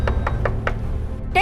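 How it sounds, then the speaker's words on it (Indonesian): Four sharp knocks on a door at an even pace, loud and close, followed by a brief voice at the end. "dari tadi diketok-ketok nggak keluar-keluar"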